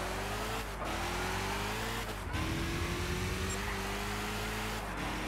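A race car engine drones at high revs while overtaking in Gran Turismo 6, with steady whining tones that dip briefly at gear shifts, then climb again.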